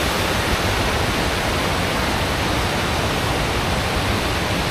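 A mountain stream swollen with water after overnight rain rushes steadily in a dense, even hiss, loud and close, with no other sounds.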